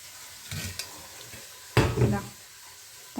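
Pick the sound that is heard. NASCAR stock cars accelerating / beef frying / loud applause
beef frying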